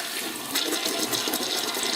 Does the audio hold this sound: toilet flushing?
yes